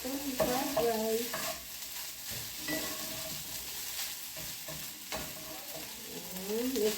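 Fried rice with oyster sauce is stirred and fried in a pan. A soft, continuous sizzle runs throughout, with scraping stir strokes coming in short bursts, close but fairly quiet.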